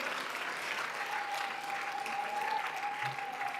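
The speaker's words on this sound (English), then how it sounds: "A warm round of applause for her and our panelists" A colloquium audience applauds the facilitator and panelists in a hall, steady moderate clapping from a crowd, with a faint whistle-like tone running through it.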